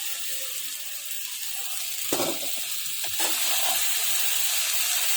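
Okra and ginger frying in a pan, a steady close sizzle with a couple of brief stirring clatters, no voices.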